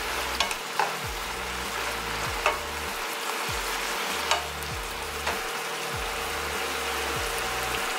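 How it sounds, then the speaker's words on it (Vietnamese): Mushrooms and chicken fry in a pan with a steady, moderate sizzle and crackle, broken by a few sharp clicks and low rhythmic thumps, with no talking. "Bây giờ chờ nấm với lại thịt chín là ăn cơm được rồi."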